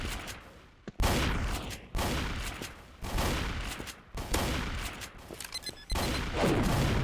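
Bursts of gunfire in the Roblox video game, a series of sharp loud volleys about a second apart, each decaying quickly, with no talk.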